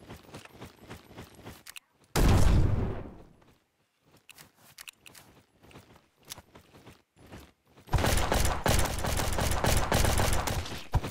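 Bursts of gunfire from the Roblox shooter Bad Business, a loud volley near the start and a dense sustained barrage in the final seconds, with quieter clicks and footsteps between them.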